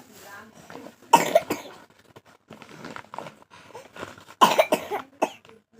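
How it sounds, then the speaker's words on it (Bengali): A child coughs at home, with several short harsh coughs in two clusters, close to the mic, between quiet stretches and a little voice nearby. "না, কাশি লেগেছে।"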